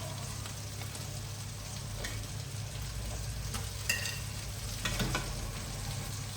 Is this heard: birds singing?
no